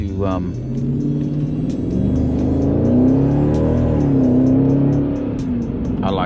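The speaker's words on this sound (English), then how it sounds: "love a little bit of acceleration to put me back in the seat" Jeep SRT with a 700 hp engine revving under hard acceleration, heard from inside the cabin as a loud, deep, rising roar that climbs steadily and holds for several seconds before easing off.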